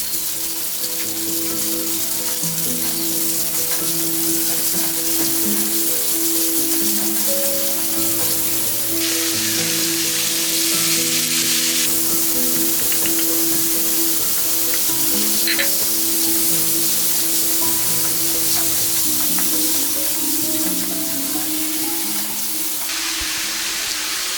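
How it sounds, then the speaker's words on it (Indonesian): Steady, loud sizzling as chicken and tofu stir-fry in a hot pan, with clattering of a utensil stirring the food throughout. "Lanjut kita cemplung ayam, tahu, terus dioseng-oseng."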